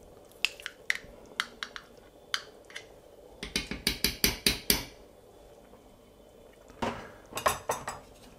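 A spoon clanks sharply against a cast-iron Dutch oven as a hearty Puszta stew with brown butter is mixed: bursts of loud metallic knocks, some in quick runs and others spaced out, with no talking.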